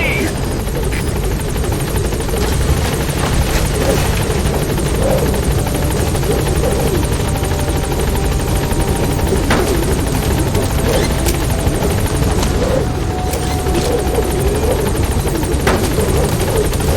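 Inside the Metal Gear Solid V game, a support helicopter arrives at a landing zone, its rotor whirring steadily and loudly throughout while brief radio voice lines play over it.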